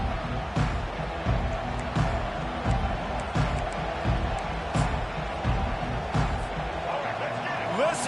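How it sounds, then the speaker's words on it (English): At a Virginia Tech vs Michigan college football game, a packed stadium crowd roars in a continuous dense rumble while a commentator talks over it, with sharp thumps and bursts of noise rising from the stands. "Listen to this crowd just shaking the girders of this place, trying to help their defense"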